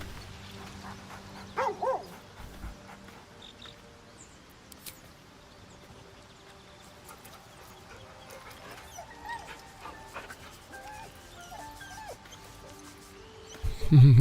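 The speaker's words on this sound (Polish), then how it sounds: "Piesek! Piesek przyszedł!" A dog in the video game Baldur's Gate 3 whimpers, yips and gives a couple of short barks amid quiet in-game ambience, ending with a louder burst; someone talks over it in places.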